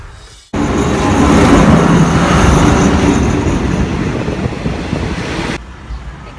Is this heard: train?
yes